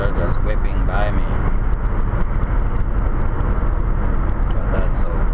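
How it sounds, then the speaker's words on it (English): Steady road roar from cars passing on a highway while driving at about 100, a continuous loud rush heard from inside a moving car with a voice talking over it. "Notice I'm driving at 100 and cars are just whipping by me."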